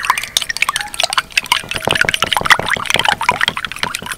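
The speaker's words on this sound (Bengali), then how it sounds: "ডিমটাকে ভালো করে ফেটিয়ে নেব।" An egg being beaten in a bowl for a quick oil-free steamed snack, heard as rapid, uneven clicking and light sloshing strokes that repeat close by and fairly loud, with no talking.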